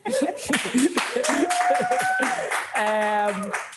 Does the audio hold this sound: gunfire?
no